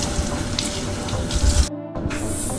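Tap water runs steadily into a sink while tie-dyed fabric is rinsed, a loud close broadband splashing rush that briefly cuts out before resuming, with no talking.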